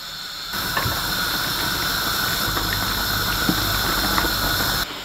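Duck breasts (magrets) put back into a simmering honey and balsamic vinegar sauce with raisins, giving a steady close hiss and bubbling sizzle that runs almost the whole time after a quiet start, with faint clinks.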